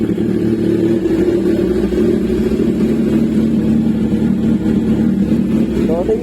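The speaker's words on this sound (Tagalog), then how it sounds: "So, pinapainit ko na lang yung makina." A motorcycle engine idles as it warms up before a rainy ride, giving a steady low rumble with a constant throb throughout, close by.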